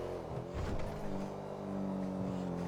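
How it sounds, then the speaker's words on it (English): A fast BMW car drives with a steady engine drone that swells and rises partway through, held at a fairly constant level with no talk over it. "This BMW ain't playing. This BMW fast."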